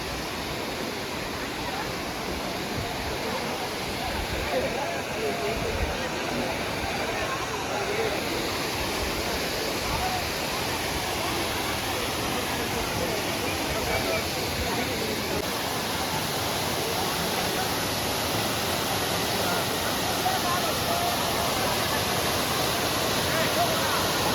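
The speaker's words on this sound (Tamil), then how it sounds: "இதுதான் அந்த வாட்டர் ஃபால்ஸ்" A waterfall at Kodaikanal gives a steady, full rush of falling water that holds an even level throughout, with faint crowd voices at times under the roar.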